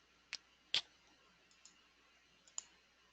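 A computer mouse gives a few faint, sharp clicks at irregular intervals, two clearer ones near the start and softer ones later, in an otherwise quiet room.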